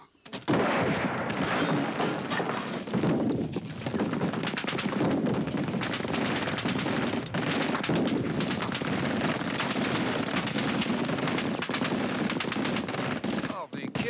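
Dense, loud gunfire filling the whole stretch, with rapid overlapping shots and bursts at close range and no pauses.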